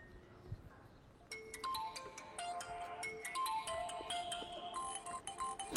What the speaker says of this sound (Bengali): আপনার ফোন বাজছে